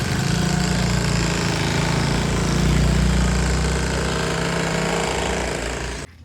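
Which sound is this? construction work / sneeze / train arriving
construction work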